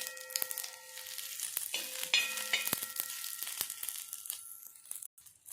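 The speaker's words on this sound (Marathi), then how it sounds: "आता हा कांदा आपण इथे भाजून घेऊ" An onion roasts in a hot pan, crackling and sizzling with intermittent scraping and crunchy stirring sounds, close up with no talking.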